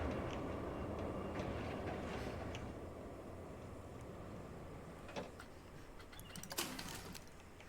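A roller coaster train on a test run in the Planet Coaster video game rolls with a continuous low rumbling clatter that stays steady, then gives way to a few clanks and a brief sharper burst near the end.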